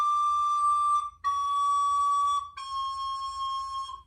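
Recorder squeaking because the thumb misses the back hole: three shrill, sustained high tones, each held about a second, with brief breaks between, alone and fairly loud.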